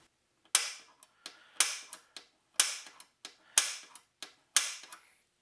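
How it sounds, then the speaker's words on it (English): An automatic center punch snaps six times against a plastic amplifier chassis, each a sharp, close, loud click spaced in an uneven rhythm with brief ringing tails and quiet between strikes. "using this little automatic punch, while it sounds like a great idea, that was 6 clicks and it barely put a little mark"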